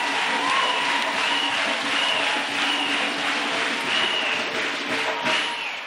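A church congregation claps for Jesus Christ, giving sustained, loud, crowded applause that fills the room without a break, along with faint crowd voices.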